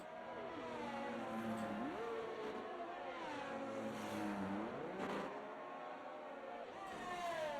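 Haas Formula 1 car in the racing game F1 23 during an esports race, its engine note climbing and dropping through gear shifts as it laps, steady and prominent, with commentary talking over it throughout.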